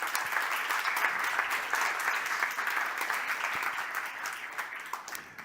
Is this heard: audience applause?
yes